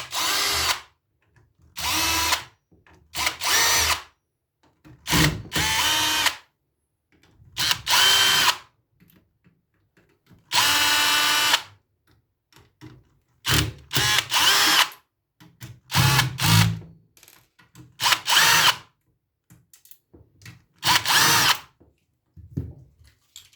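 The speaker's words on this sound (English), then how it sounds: "We'll take out all the screws." Power drill backing screws out of the front panel of an audio power amplifier, loud close whirring bursts of a second or two separated by silent pauses, repeated about a dozen times, with faint clicks between.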